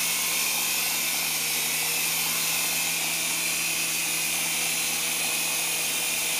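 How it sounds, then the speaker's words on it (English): A Syma S107 metal-series RC helicopter hovers nearby, its small rotors and motor producing a constant high whirring buzz with a faint steady hum underneath, unbroken and even in level for the whole stretch. "The helicopter's flying itself."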